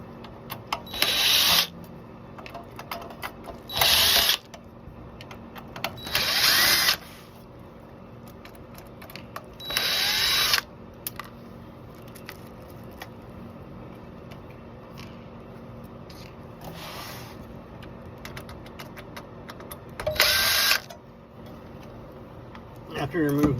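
Screws are removed from the touch-screen trim of a Toyota RAV4 with a power driver, which whirs in short bursts of about a second, repeated several times with pauses of faint handling noise between.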